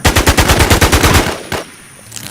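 Video game gunfire rattles in a rapid automatic burst of about a dozen loud, evenly spaced shots, then a single later shot before the action falls quiet.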